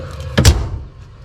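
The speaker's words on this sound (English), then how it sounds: "We'll shut the door." A single dull thud of a heavy Humphrey's smoker door swinging shut, close by, followed by a faint low hum.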